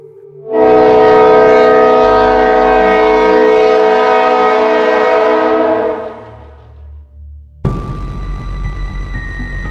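A loud, sustained train horn blares for several seconds over a low rumble. It cuts to heavy rolling rail noise with a steady tonal whine.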